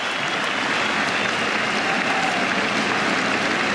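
A cricket crowd at the 2018 England v India fifth Test roars and applauds a boundary, a loud, sustained wall of clapping and cheering that holds steady throughout.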